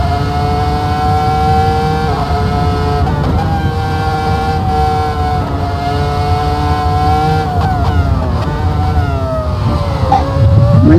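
A Ferrari V10 in a virtual reality racing game screams near 19,000 RPM on a fast lap, loud and close, with a sustained high-pitched whine that rises and dips through shifts and braking.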